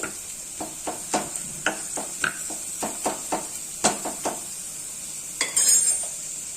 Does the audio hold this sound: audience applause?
no